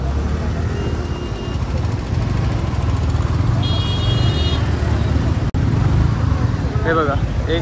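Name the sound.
heavy road traffic in a ghat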